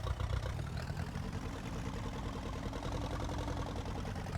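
Tractor engine in Farming Simulator 19 rumbling steadily at low revs, a faint continuous drone that rises slightly as it pulls away, no talk over it.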